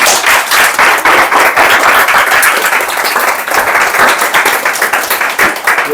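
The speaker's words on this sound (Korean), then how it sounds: "우리가 큰 박수로 마무리" Loud, sustained applause from an audience at the close of a Korean essay-writing briefing session, dense overlapping claps filling the whole stretch without a break.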